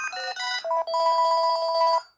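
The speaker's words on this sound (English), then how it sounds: "this is ringtone number 1 and this is ringtone number 2." A mobile phone plays its ringtone, a short, bright melodic electronic tune of quick repeated tones, clear and close, lasting about two seconds with no talk.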